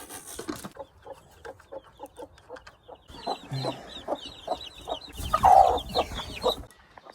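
A protective mother hen clucks in a steady series of soft, rhythmic notes near her chicks, joined by faint high cheeping and a louder burst of fowl calls toward the end, close by with no talk.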